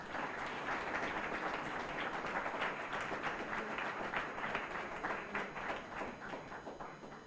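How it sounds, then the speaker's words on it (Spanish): A church audience in Bonaire applauds a group at a program presentation, a thick, steady roar of many hands heard at some distance and fairly quiet, fading slightly near the end. "Un aplauso para el grupo aquí."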